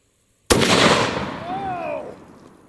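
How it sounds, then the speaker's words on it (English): A single loud shot from a WW2 Boys anti-tank rifle fired at blocks, a sharp blast that booms and rolls off into a fading reverberant tail. "Let's take one more shot at these final 3 blocks."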